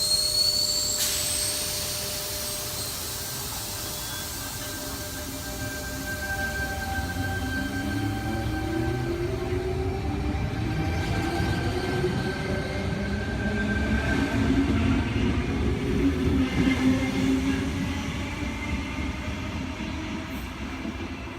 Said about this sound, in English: Quakers Hill service now departing platform number 1